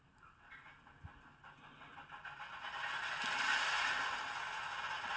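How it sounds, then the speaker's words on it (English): A model train locomotive powers on and starts up, building from a faint hum into a steadier mechanical whir with light rattling. The sound stays fairly quiet and close throughout, with no talking. "You hear the locomotive start up."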